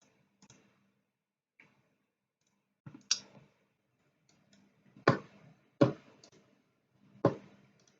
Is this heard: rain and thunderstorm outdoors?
no